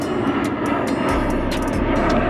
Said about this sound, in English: we got a plane flying overhead right now